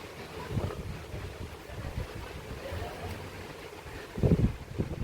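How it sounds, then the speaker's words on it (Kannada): Steady gusty wind before rain buffets the microphone, with low rumbling bursts rising sharply near the end, like a strong blow outdoors. "ಬರೀ ಮಳೆ ಬರೋದಿಲ್ಲ, ಜೋರು ಗಾಳಿ"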